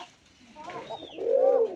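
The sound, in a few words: pigeon cooing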